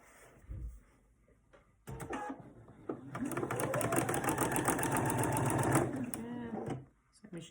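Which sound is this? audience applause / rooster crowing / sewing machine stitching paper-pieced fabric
sewing machine stitching paper-pieced fabric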